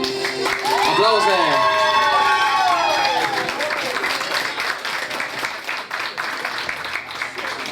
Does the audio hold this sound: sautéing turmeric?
no